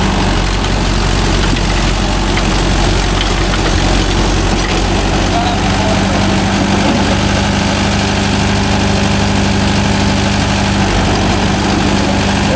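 Mahindra Yuvo Tech Plus 585 4WD tractor engine runs steadily at economy rpm while pulling a rotavator in a coconut grove, a loud, close, continuous rumble.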